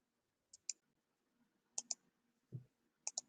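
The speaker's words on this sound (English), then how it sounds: "I hear you clicking." Computer mouse buttons clicking close and crisp in a quiet room, mostly in quick double clicks separated by short pauses, with one duller knock in between.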